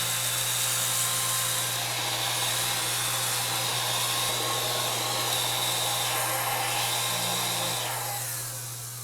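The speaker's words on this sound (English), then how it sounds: "we are going to try the little vacuum again. Turn it on." A small We R Memory Keepers Glitter Vac runs steadily and loudly with a constant motor whine and airy hiss, winding down slightly at the end.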